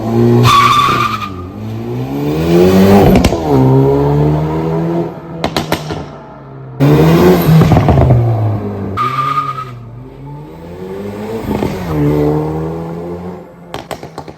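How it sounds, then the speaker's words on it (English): A 2021 Hyundai Veloster N makes repeated full-throttle launches without launch control, the engine revving hard through rising and falling pitch sweeps alongside tire squeal, with short lulls between loud bursts. "Okay, I'm gonna do another launch, maybe two, and I'm not gonna use launch control this time."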